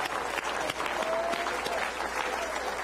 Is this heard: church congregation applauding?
yes